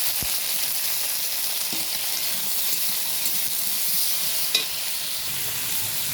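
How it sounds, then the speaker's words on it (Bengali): Flat beans (shim) frying lightly with salt in a pan give a steady, even sizzle and hiss that runs close and continuous, with a single brief clink near the end and no talking. "এদিকে শিমটা আমি ভেজে নেব হালকা করে নুন দিয়ে"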